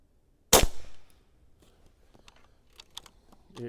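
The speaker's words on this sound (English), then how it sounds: "Boy, powerful air gun." A single loud, sharp crack from a Niksan Elf PCP air rifle, .22 or .25 caliber, fired close by, followed by a quick fade and a few faint clicks and small handling noises.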